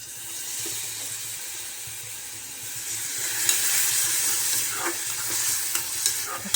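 Curry leaves drop into hot oil for a tempering in a home kitchen, a steady soft sizzle that swells into brighter crackling spatter with a few sharp pops, fairly quiet and close with no talking.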